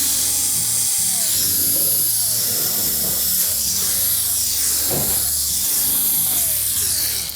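A power driver removes quarter-inch hex head screws from the back panel of a GE oven range. Its motor whines up and down in repeated bursts over a steady hiss, loud and close, with no speech.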